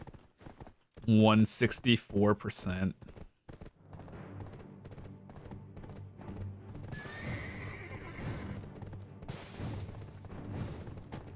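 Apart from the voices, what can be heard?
horse galloping and neighing in video game Black Desert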